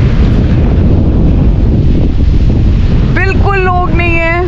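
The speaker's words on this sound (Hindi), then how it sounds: "बहुत तेज जो हवा चल रही है" Strong sea wind at Pamban Bridge buffets the microphone in a constant heavy roar, with a voice speaking briefly near the end over the gusts.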